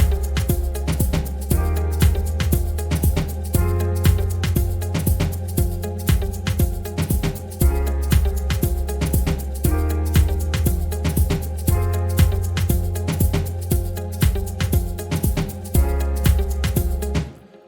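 An Afro House beat plays steadily with keys and a deep bass line under driving percussion, loud and continuous, with the low end shifting in repeating bars and no voices.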